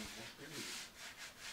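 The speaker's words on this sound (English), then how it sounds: "With all the tapering complete, I moved on to hand sanding." Hand sanding on a wooden sailboat rudder with sandpaper, a dry rasping scrape repeated in steady back-and-forth strokes, close and moderately loud with no talking.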